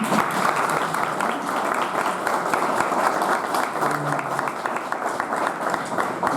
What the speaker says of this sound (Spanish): quiero pedirles que les agradezcamos a nuestros ponentes con un aplauso